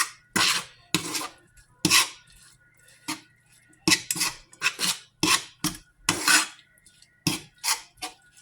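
A utensil stirring and scraping teriyaki chicken in a metal pan, repeated close rasping strokes in an uneven rhythm with short pauses between, loud and alone.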